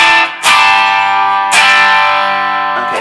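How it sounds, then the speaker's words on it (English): Two heavily strummed chords on an electric guitar through a Marshall amp, the first held for about a second before the next, each sustaining with a mild crunchy distortion and no voices over them. "Keep digging into it till you hear distortion."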